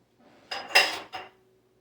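A bowl is handled on a surface, giving a few quick ceramic clinks and knocks, one ringing tap standing out, close and fairly quiet.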